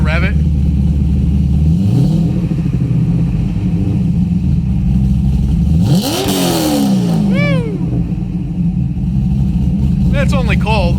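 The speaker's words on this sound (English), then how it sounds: "You think he's gonna rev it?" A car engine with a small camshaft, started from cold, idles loudly and then revs up in a couple of rising bursts that fall back, close by, while people talk over it.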